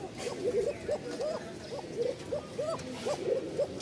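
Fancy pigeons from Rajshahi, a breeding pair with a thin, high call, coo in a repeated run of short warbling notes over steady background noise, fairly close.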